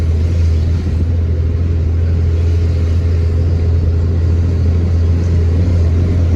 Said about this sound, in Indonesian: Oh, ini banyak dump truck guys